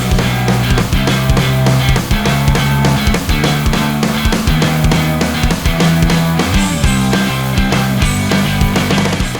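Guitar chords move through a progression with a bass line following the chord roots and a drum groove behind them, playing loud and continuous with a steady beat and no voices.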